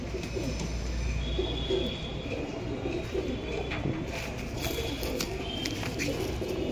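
Several pigeons coo steadily in an indoor loft in Purba Bardhaman, their soft, low, rolling calls continuous and close, layered over a constant busy background hum.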